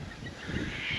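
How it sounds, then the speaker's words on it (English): A duck paddling on Wollundry Lagoon gives a brief, faint run of nasal honking calls over quiet open-air background. "There's another little duck out for a paddle"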